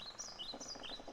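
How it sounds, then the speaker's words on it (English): Birds chirp and tweet in a game scene from a Black Mirror adventure game, a steady run of high, repeated calls with no talk, at moderate loudness. "You can hear the birds chirping."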